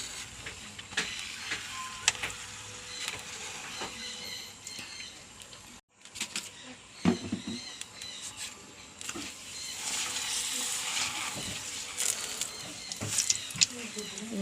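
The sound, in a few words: papadam frying in hot oil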